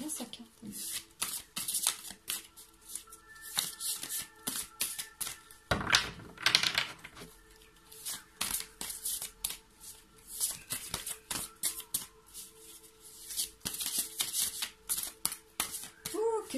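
Tarot cards shuffled by hand over a long stretch, a fast run of soft flicking riffles and taps with one louder burst, heard beneath someone speaking steadily in French.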